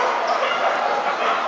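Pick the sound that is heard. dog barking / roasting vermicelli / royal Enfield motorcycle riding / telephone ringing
dog barking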